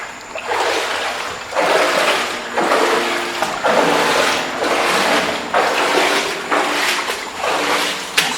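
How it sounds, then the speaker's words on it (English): Brook water pouring and splashing into a bucket in repeated surges, loud and close, each scoop arriving as a burst of rushing, splattering water outdoors in a drying stream during drought. "And fill up the bucket."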